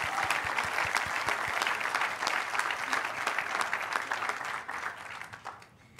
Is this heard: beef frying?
no